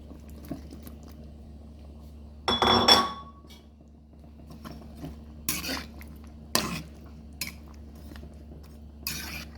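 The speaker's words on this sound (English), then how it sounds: "So I'm gonna go ahead and add my carrots." Carrots tipped into a pot of Jamaican curry chicken, a burst of clattering, clinking impacts against the pot, followed by scattered softer knocks and stirring clinks over a low steady hum.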